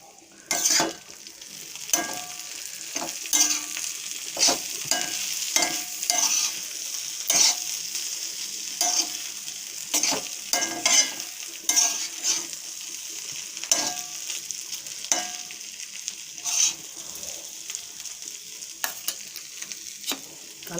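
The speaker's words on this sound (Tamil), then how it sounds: "அருமையான நகர கருவாடு பொரிச்சிக்கிட்டு இருக்கேன்." Nagara dry fish frying and repeatedly stirred in a pan, a continuous close sizzle broken by frequent scraping strokes of a spoon at an uneven rhythm, no talking.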